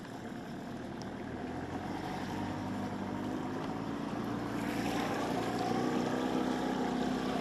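A motorboat engine drones steadily over marsh water in southern Iraq, a constant mid-distance hum that grows slightly louder toward the end.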